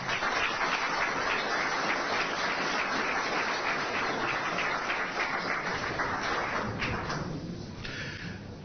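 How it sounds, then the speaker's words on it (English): An audience at a conservative political event applauds Janisha, dense continuous clapping from a large crowd, fairly distant and even, thinning slightly toward the end. "I'd like to have a big round of applause to her for Janisha."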